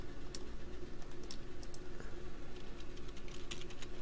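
Steady typing on a computer keyboard while Python code is written, a fairly quiet stream of light rapid clicks over a low background hum.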